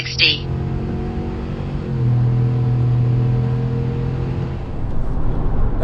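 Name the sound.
2024 Chevy Tahoe RST naturally aspirated V8 accelerating 0-60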